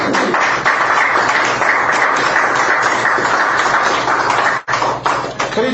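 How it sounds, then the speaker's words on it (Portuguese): A church congregation at a Portuguese-language worship service claps joyfully for Jesus, loud continuous clapping filling the space with a brief dip near the end before resuming. "As palmas bem alegres para Jesus."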